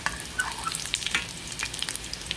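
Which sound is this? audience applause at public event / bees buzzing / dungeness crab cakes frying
dungeness crab cakes frying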